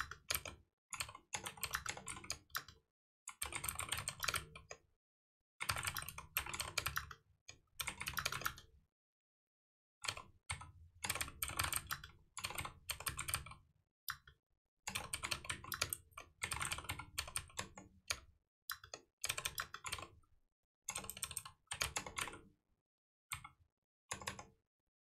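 Rapid typing on a computer keyboard while writing Python code, close and crisp, in bursts of clicking keys broken by short pauses over a long stretch.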